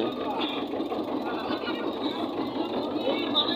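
A trawler boat's engine runs while crossing the Brahmaputra river with many passengers aboard, giving a steady rattling chug at moderate volume with faint background chatter.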